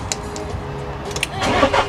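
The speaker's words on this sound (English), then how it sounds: "Do you want to turn the engine on?" Giottiline Siena motorhome engine cranking and catching at close range, a rising mechanical rumble building over the final half second after a quiet idle-like hum.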